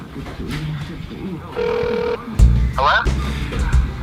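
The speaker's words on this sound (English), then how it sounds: "It's calling him again." A phone rings while an outgoing call is placed, with short ringback tones sounding between bursts of talk and background noise.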